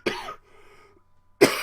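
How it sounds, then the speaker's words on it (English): Two sharp, close coughs from a man, separated by about a second of near silence with a faint rasp in between. "Makes no damn sense for me to edit out a cough"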